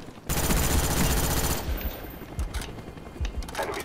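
FAMAS rifle gunfire in Call of Duty Black Ops: rapid, dense bursts of close, loud automatic shots, sustained for over a second, then scattered sharper shots and impacts continuing in the game mix.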